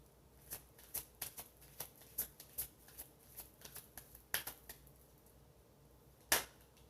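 Goddess oracle cards shuffled in the hands, a run of crisp riffling snaps and slaps spaced irregularly, with a louder final snap near the end, close and alone without talk.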